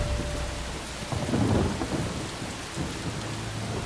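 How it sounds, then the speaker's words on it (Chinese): Heavy rain pours steadily as thunder rumbles low and close, swelling in the middle of the downpour, with no voices. "那一天下了好大的雨，当铺准备提前打烊。"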